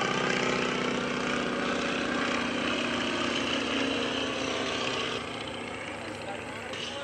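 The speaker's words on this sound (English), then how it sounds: "Here's that N2S3 again." Stearman N2S3 biplane at an airshow, its radial engine droning steadily and loudly throughout, with the level dropping slightly near the end as it passes.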